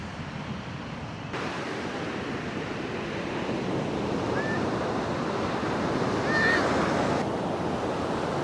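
Ocean waves on a beach, a steady broad wash of surf rushing continuously throughout with some wind buffeting, a faint bird call rising briefly above it.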